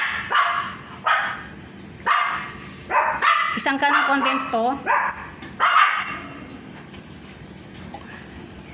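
Several dogs bark repeatedly in loud, sharp bursts near a kitchen where a no-bake mango cheesecake is being made, some yipping and whining, with someone speaking briefly among them.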